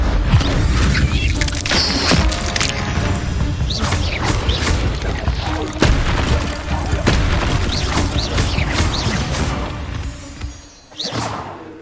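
An Incendio fire spell in Hogwarts Legacy on PS5 sets off repeated whooshing bursts and booming impacts, layered with crashes and mechanical clatter, loud and dense throughout.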